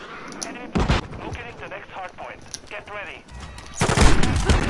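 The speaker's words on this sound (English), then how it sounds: "Friendly cruise missile inbound." A cruise missile strike in Modern Warfare 2 in third-person mode: a heavy blast, then a louder, rumbling explosion at the end, with a person talking in between amid game noise.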